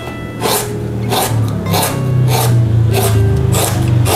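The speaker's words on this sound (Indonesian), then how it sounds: "Ini lengkuasnya mau aku potong-potong dulu." Galangal is cut into pieces on a board, giving about six rhythmic rasping chops spaced roughly half a second apart, close and fairly loud over a steady low kitchen hum.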